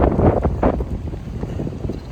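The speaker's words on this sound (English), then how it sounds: "It is so windy out here." Strong wind gusts roar and buffet outdoors among trees ahead of a thunderstorm, with heavy surging rushes early on that ease into a steadier blustery rumble.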